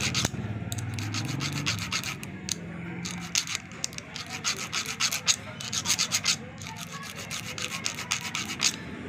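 A round file rasps back and forth on a metal sewing machine part, a fast series of close, bright scraping strokes in an uneven rhythm that carries on throughout, with no voices.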